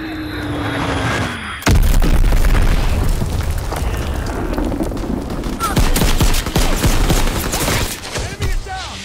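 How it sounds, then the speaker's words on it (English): An enemy bomb explodes with a loud, sudden boom in a video game battle, followed by sustained bursts of close gunfire and scattered impacts that continue for several seconds. "Enemy bomb incoming. Get to cover."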